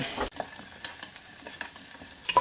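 Thinly sliced small onions fry in a pan for mutton makboos, hissing softly and steadily up close with a few light stirring scrapes and occasional faint pops.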